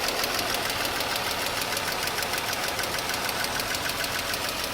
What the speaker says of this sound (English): when the rocker arms begin failing, that is actually what causes the engine tick